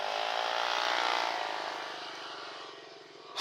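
A Dominar 400 motorcycle with a newly installed aftermarket exhaust roars past nearby, its loud engine note swelling and then fading in street traffic.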